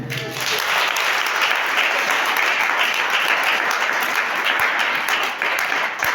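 A church congregation in Togo bursts into sustained, loud applause, a dense crowd of clapping that fills the whole stretch and ends abruptly.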